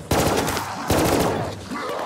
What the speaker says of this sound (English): Dude, it's a bolt action rifle.